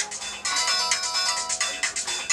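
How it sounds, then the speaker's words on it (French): A bright electronic phone ringtone plays a fast, repeating melodic pattern, loud and close, with no voices. "Nouvelle sonnerie."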